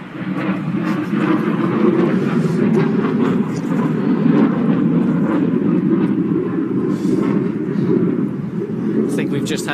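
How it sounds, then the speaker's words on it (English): An aircraft flyover at a motorsport event produces a steady, broad engine roar that stays loud for the whole stretch, with faint crowd or commentary sounds beneath it. "I think we've just had a bit of a flyover."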